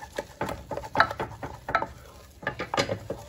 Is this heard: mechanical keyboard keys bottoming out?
no